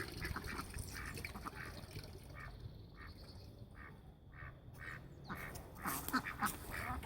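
Ducks kept alongside chickens quack in a steady run of close, repeated calls, with a louder flurry toward the end over a faint watery background.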